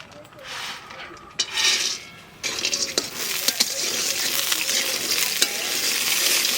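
Lentil dumplings (dal bori) fry in a pan with a steady broadband sizzle that swells after a brief lull, broken by a few sharp clicks of stirring against the pan.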